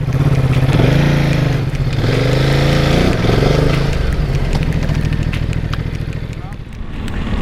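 A Ducati Multistrada 950 motorcycle with an aftermarket clutch pulls away, its engine revving up through rising gears and holding a loud, steady drone close to the rider's microphone, with wind rush throughout.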